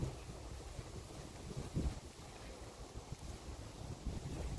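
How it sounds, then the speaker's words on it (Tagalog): Sea breeze blowing outdoors along a hillside trail near the coast, a steady broadband rush of wind buffeting the microphone with gentle gusts and no voices. "Ang sarap ng hangin."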